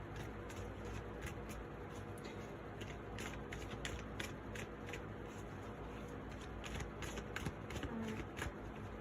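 Deck of reading cards is shuffled in quick, soft riffling bursts, close but faint, a rapid papery patter that continues steadily without any talking.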